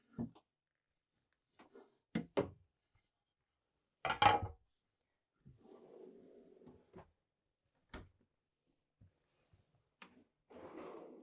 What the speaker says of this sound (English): Just below that is a small drawer, storage here for our covers.